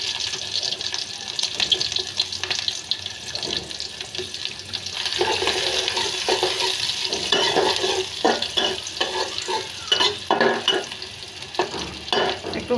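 Garlic and onion sizzle steadily in hot oil while a spoon scrapes and stirs the pan in a home kitchen, the frying loud and close throughout.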